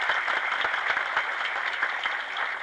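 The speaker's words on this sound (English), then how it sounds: "I'd like to give them a round of applause" Audience applause at an evening civic league gathering in a Yonkers banquet hall, a steady dense patter of many hands clapping at moderate volume for the full stretch, with no voices over it.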